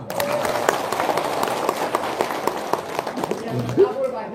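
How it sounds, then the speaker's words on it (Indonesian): An audience at a live stage event claps in a scattered, uneven round of applause, with people talking loudly over and between the claps throughout. "Tepuk tangan dong."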